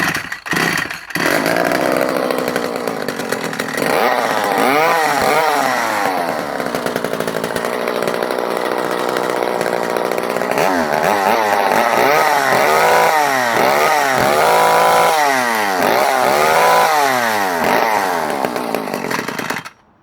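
Vintage McCulloch 110 top handle chainsaw running close and loud after a rough start, idling and then revving up and down repeatedly before cutting off abruptly.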